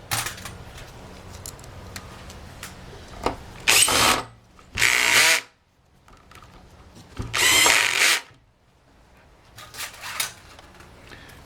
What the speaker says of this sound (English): When you use a cordless screwdriver, use it at a very, very low torque setting